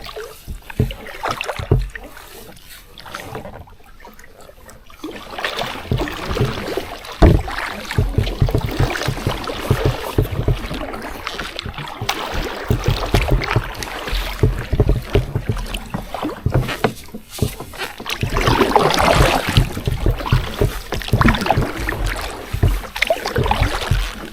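Kayak paddled on a river against the current, with water splashing and sloshing steadily around the hull, paddle strokes mixed into continuous wind and water noise up close.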